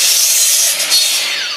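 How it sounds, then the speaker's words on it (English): A saw cutting 45-degree corners off a wooden board for a picnic tabletop, one continuous loud, bright rasping cut heard up close with no voices. "We trim the corners at 45 only on the outside board."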